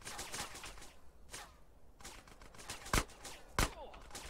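Gunfire in Grand Theft Auto: San Andreas, with two sharp, loud shots standing out near the end over a busy, noisy game scene and scattered softer cracks earlier.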